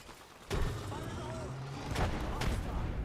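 A grenade explosion in Apex Legends gives a sudden dull boom followed by a sustained rumbling wash, with a couple of later sharp cracks, all under background game noise.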